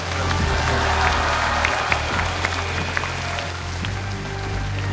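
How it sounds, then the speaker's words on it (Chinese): Steady, dense applause from a big audience, an even wash of clapping with a low hum underneath. "那么当然，我们也把掌声给一下 Martin 啊"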